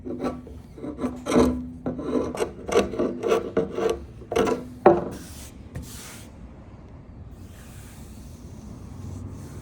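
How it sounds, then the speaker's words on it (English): Dried glue being scraped off wood by hand, a series of short rasping strokes in a quick uneven rhythm, close and loud, then fading into faint room noise after a few seconds. "So I got the glue scraped off."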